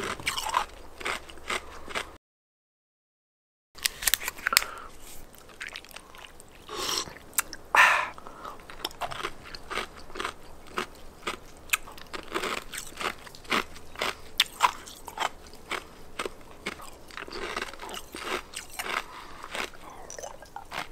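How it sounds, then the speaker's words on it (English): Loud, close, repeated crunching and biting of ice and snow, eaten alongside a tropical punch Prime drink. The crisp bites and chewing crackles keep coming steadily, with one brief silent gap early on. "Wow, the crunch was epic as usual"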